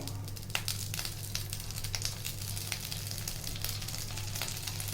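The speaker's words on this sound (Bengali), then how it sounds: "কড়াই দিয়ে দেব খুব অল্প পরিমাণে সর্ষের তেল পরিষ্কার করে রাখা লাউ পাতাগুলো এইভাবে বিছিয়ে দেবো" Bottle gourd leaves spread in a wok with a little mustard oil, crackling and sizzling softly and continuously, with crisp spits and pops scattered through it, close and quiet, alone against a low steady hum.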